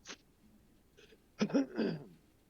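One person clears their throat with a short rasp, then after a pause gives a couple of heavier, rougher coughs, close and fairly quiet, with no talking.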